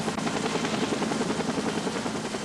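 Air Care medical helicopter in flight, its rotor giving a steady, dense throb that stays loud and even throughout, with no voices.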